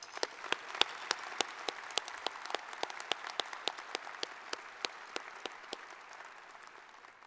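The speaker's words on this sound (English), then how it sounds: "If we could give her one more round of applause." Audience applause fills a university commencement hall at Iowa State, a steady wash of many hands with sharp individual claps standing out, loud at first and gradually thinning over several seconds with no voices.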